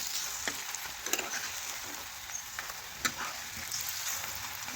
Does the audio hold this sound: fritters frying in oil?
yes